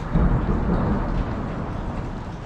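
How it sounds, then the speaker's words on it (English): Deep, low rumbling thunder rolls continuously, with a faint wash of rain underneath and no other sounds. "Do you hear that thunder?"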